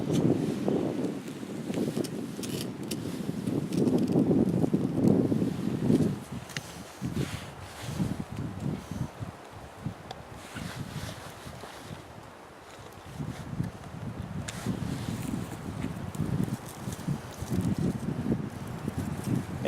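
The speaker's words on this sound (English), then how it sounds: "Did I mention it was windy?" Steady wind roars and buffets outdoors in spring woods at Ash Lake, gusting louder at times, with occasional rustling and faint movement nearby.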